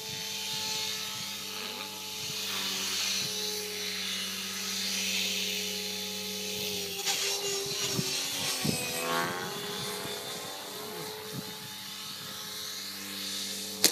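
A Gaui X4 RC helicopter whines steadily overhead as its motor dies, the pitch sagging and wavering before a scraping, rattling crash ends it; there is no talk.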